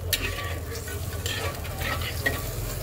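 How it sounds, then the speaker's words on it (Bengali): Spice paste sizzling in a pan for Bengali katla fish curry with potatoes, stirred continuously, with scraping strokes over a steady close frying hiss. "কয়েক মিনিট ভাজা হওয়ার পর দিয়ে দিলাম সামান্য পরিমাণে জল, মশলাটাকে আর কিছুক্ষণ কষানোর জন্য"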